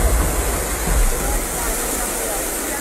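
Floodwater from a rising river surges during Typhoon Carina, a loud, steady broadband rush of water that fills the whole clip without pause, close and continuous.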